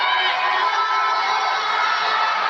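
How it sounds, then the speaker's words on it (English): Steady, dense roar of a crowd cheering and shouting at a women's rugby sevens semi-final in Krakow, Kenya against Poland, a continuous wash of voices with no let-up. "the Krakov crowd are absorbed by this one"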